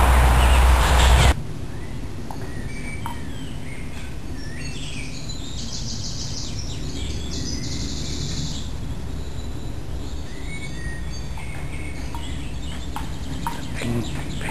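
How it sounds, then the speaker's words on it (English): Recorded calls of the ping pong bird, a series of short chirping notes at mid-distance, rising and falling over a steady outdoor hiss after a loud burst at the start. "Can you hear the ping pong bird?"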